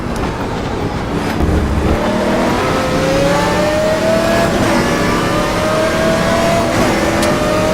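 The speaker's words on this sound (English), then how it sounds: "I'm wringing the neck out of this Aston Martin and my Fanatic wheel." Simulated Aston Martin race car engine in the GTR Evo racing game, played on a Fanatic wheel, revving hard and steadily climbing in pitch through the gears, a loud continuous engine whine with no talking.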